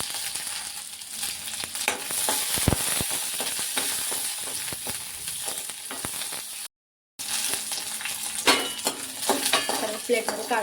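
Ginger, garlic and coconut fry in a little oil with a bright, continuous sizzle and scraping stirs. A brief dropout of silence cuts in near the middle.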